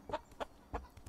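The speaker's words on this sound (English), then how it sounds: "And there's some chickens." Chickens in the Bear Simulator video game clucking in short, separate bursts, three or four quick calls spaced across a brief moment, fairly close and clear with no talk over them.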